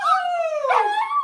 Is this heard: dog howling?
yes